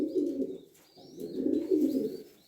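Pigeons kept for breeding and flying coo in two long, low, rolling phrases, close and fairly loud, with faint chirps above and no talking.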